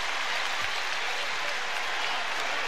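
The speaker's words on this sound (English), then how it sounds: "that gets the crowd a little more upbeat, a little noisier here at Rupp" Basketball crowd at Rupp Arena during Kentucky versus Kansas, a continuous broad roar of cheering and applause filling the arena, loud and steady throughout with no break.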